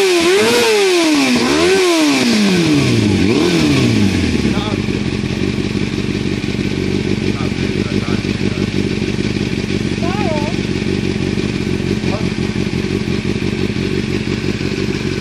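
A 2002 Kawasaki Ninja ZXR400 motorcycle engine revved up and down several times through its exhaust, rising and falling sharply before settling into a loud, steady idle, recorded close up.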